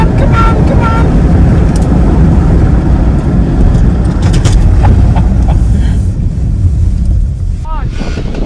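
A 2021 Kia Sorento Turbo and a 2021 Mazda CX-5 Turbo accelerate side by side, heard as a loud engine drone with heavy wind rush, and voices call out over the noise.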